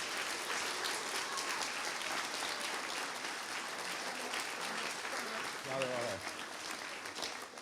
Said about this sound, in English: So maybe just give them a wee round of applause here, if you wouldn't mind.